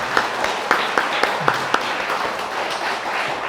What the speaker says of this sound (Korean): 힘차게 박수로.